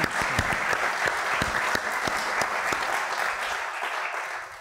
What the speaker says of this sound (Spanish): Démosles nuevamente la bienvenida con un aplauso.